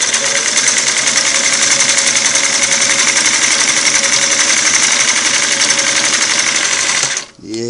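A Singer Model 347 sewing machine runs forward at steady speed, a loud continuous whirring drone with fine rapid stitching rhythm close by, stopping abruptly near the end.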